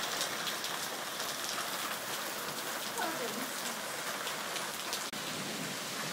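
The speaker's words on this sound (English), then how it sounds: "Now it's just raining." Steady rain falls after a hail storm, a soft, even patter on surfaces close by, continuous and fairly quiet, with no talking.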